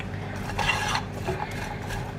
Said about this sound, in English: just give that a little bit of a stir